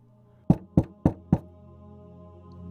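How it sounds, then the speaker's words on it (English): Four hollow wooden knocks on a tree trunk in a forest, evenly spaced in quick succession, sounding distant yet crisp, followed by quiet woodland stillness. "It was hollow, an unmistakable tap on the side of a far-off tree trunk."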